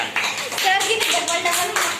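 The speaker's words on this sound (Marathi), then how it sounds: "जोरदार टाळ्या" Clapping after a children's singing performance at a basic singing class, a short burst of uneven hand claps mixed with voices and children's chatter close by.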